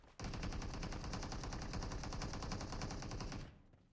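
Sustained automatic gunfire from the M15 Royale video game, a dense rapid burst of shots lasting about three seconds, loud and close, then cutting off abruptly.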